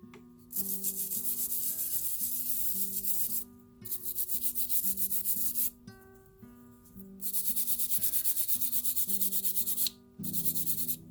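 Electroformed copper over resin being lightly sanded and buffed by hand, close rhythmic rubbing strokes in long bursts separated by brief pauses, with no speech.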